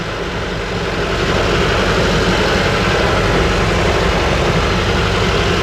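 A heavy diesel engine of a T-40AM tractor drones steadily and loudly throughout, a dense low rumble with no pauses or changes in pace.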